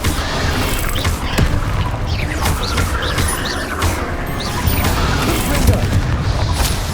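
Confringo and Bombarda spell blasts burst during a fight in the video game Hogwarts Legacy, a dense run of deep booms and crashes that keeps going without a break at a loud level.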